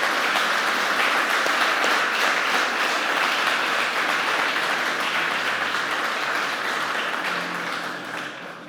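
A church congregation at a Pentecost service applauds steadily, a loud, dense, sustained wash of clapping that fades slightly toward the end, with no talk.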